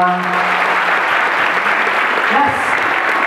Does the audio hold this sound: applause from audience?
yes